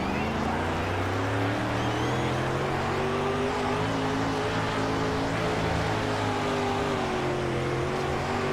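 Dirt late model race car engine in World of Outlaws: Dirt Racing at Port Royal drones loudly and continuously, its pitch climbing and dipping through gear changes and throttle shifts.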